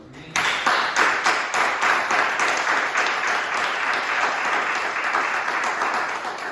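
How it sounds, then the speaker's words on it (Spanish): A church congregation claps in sustained applause for several seconds, a dense, even patter of many hands filling the room with no voices over it. "Después de otro aplauso a Jesús."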